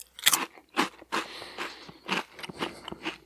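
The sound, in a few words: biting a crunchy Cheeto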